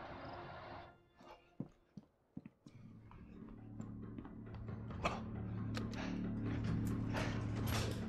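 Elevator in the video game Max Payne 3 moving, a mechanical run of creaks and clicks that gives way to a steady low whirring hum growing louder, with no talk.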